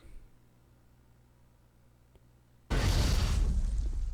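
A grenade goes off in the sci-fi shooter Mass Effect: near-silence, then a sudden loud, broad blast that roars on and slowly decays.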